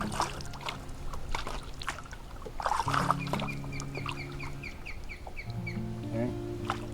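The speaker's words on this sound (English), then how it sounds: "You can hear cheeping." Birds cheeping near a river, a run of quick high chirps at middle distance over steady flowing water and a low hum.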